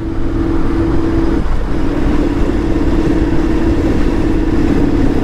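A motorbike rides slowly through a long traffic jam at night, its engine droning steadily and close throughout, with a constant low rumble and a sustained hum that briefly dips then resumes.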